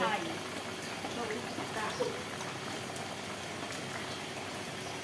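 Steady rain falls outdoors at a rural Thai village house, a soft continuous patter of drops on surfaces, fairly quiet and even throughout.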